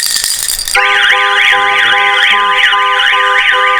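A car alarm system sounds off in a loud, close demonstration: after a brief noisy start, a rapid warbling electronic siren sweeps up and down repeatedly with steady tones underneath.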